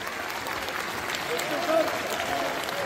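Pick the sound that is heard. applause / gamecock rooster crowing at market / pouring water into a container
applause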